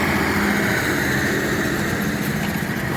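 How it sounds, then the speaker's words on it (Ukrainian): Tractor engine running steadily in a field while sowing winter peas of the Baltrap variety, a continuous loud mechanical drone with no pauses or speech. "По маркеру трактор ходить досить гарненько, більш-менш рівно."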